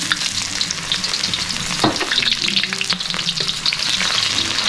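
Onions sautéing in hot oil in a pan for pork and chicken adobo cooked with Coca-Cola, a loud, close, crackling sizzle with a spatula stirring and scraping throughout, with no talking.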